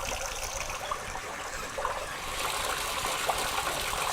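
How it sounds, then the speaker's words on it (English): Tap water running and leaking behind an apartment wall, a steady soft hiss and trickle that swells slightly louder midway, continuous and muffled with no voices. "When I turn the water on, it leaks behind the wall."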